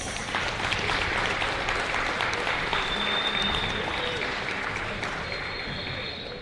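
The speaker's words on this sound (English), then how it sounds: "Give another round of applause" A crowd applauds steadily for several seconds at a high school girls' basketball game, a dense wash of clapping that tapers off slightly near the end.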